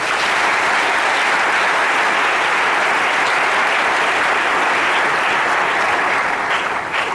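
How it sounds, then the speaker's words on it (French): Sustained applause from a large audience at a university opening ceremony, dense and steady throughout, loud and close with no pauses or voices standing out. "Sous vos applaudissements."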